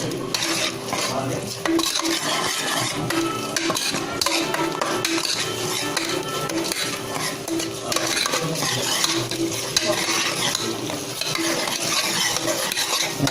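A spoon stirs and sautés mutton curry masala in a pan for village-style mutton curry: continuous scraping and clinking of metal against the pan over a soft frying sizzle, steady and close for the whole stretch.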